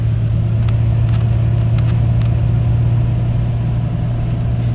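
A Ford F250 step side pickup truck driving straight down the road, its engine a loud, steady low droning hum with constant road rumble throughout and a few faint ticks above.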